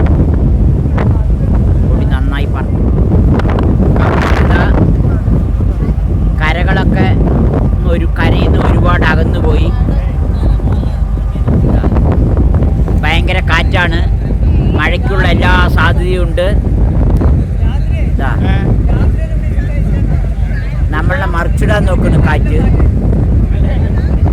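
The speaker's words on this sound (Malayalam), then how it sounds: "കാറ്റ് പിന്നെ കാലാവസ്ഥയും മാറിയിട്ടുണ്ട്" Strong wind buffets the microphone aboard a ship at sea, a continuous loud roar with gusts, while people talk over it throughout.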